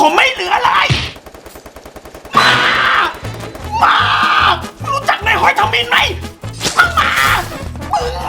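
Rapid gunfire bursts from a shooting video game, loud and repeated in stuttering volleys with brief pauses, mixed with excited shouting from a player.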